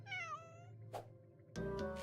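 A cat meows in a video game, one drawn-out wavering meow followed by shorter game sound effects and a second burst of cat cries, set over a soft looping background tune.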